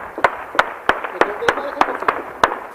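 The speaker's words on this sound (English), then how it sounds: "And sniper fire is almost constant." Sharp sniper gunshots crack repeatedly during fighting near Sinjar, Iraq, about eight distinct bangs spaced irregularly roughly every third of a second, fairly close and loud, with faint voices in the background.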